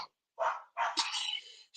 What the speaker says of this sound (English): Stop barking at the dang cattle.